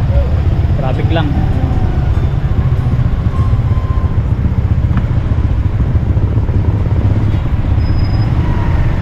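Road traffic in a busy town rumbles past with a steady low engine drone, passing motor vehicles and the occasional higher whine, all loud and close, with indistinct voices mixed in.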